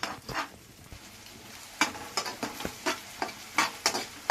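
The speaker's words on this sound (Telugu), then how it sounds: "ఇలా అంతా చిన్న ముక్కలుగా ఫ్రై చేసుకోవాలి." Food stir-fried in a pan for fried rice, with a steady run of scraping stirs over a soft continuous sizzle, close and without talk.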